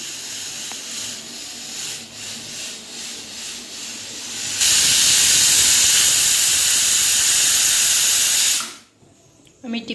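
A pressure cooker holding dal vents steam in a loud, steady hiss that bursts in midway, holds for about four seconds, then cuts off abruptly.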